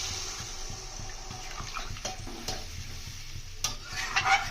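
Water pours into a pan of cauliflower, potato and rui fish curry with a continuous rushing splash over a background sizzle, and a few light knocks and clinks of the pot are heard up close.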